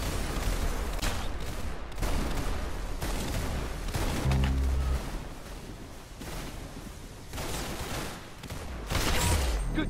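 Rapid volleys of gunfire from the video game Arsenal, loud and dense, with repeated sharp bursts and heavier booming shots across the whole stretch, no speech.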